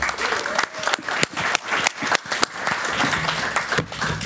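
An audience at a youth panel event applauds, with steady clapping and crowd noise carrying on throughout at close range.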